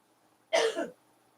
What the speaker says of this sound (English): if you're coughing so much?